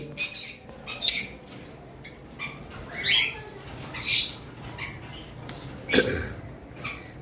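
A yellow male and a cream-coloured female pet bird in a farm cage give short, sharp chirps and squawks in scattered bursts, fairly close, with soft rustling between calls.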